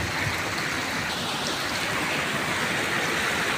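Heavy rain from Typhoon Kristine pours down close by, a loud, dense, unbroken hiss of water with wind, steady throughout.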